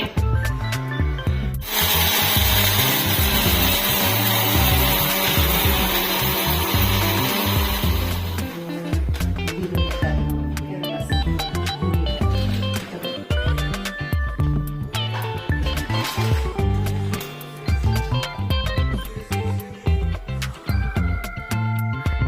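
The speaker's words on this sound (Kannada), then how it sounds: "ಸರಿ ಈಗ ನಯವಾಗಿ ರುಬ್ಬಿಕೊಂಡು ಬರ್ತಾ ಇದ್ದಾರೆ" A mixer grinder roars loudly as it grinds roasted chickpeas into powder for chakli for several seconds, then cuts out, leaving rattling and clattering sounds afterward.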